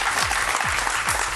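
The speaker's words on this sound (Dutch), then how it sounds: "Groot applaus." A studio audience at a regional sports television show bursts into loud, close, continuous clapping that fills the whole moment, with low thumps recurring beneath.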